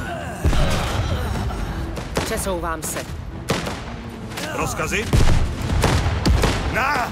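Gunfire in the video game Last Train Home, scattered sharp shots and heavy thumps firing in irregular bursts over battle ambience while people talk throughout.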